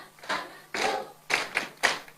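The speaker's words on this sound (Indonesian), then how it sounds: "Sambil tepuk tangan semua menyanyi" A congregation claps hands in a few loose bursts during a Sunday school song at a church service, the claps fairly close and uneven, separated by short pauses.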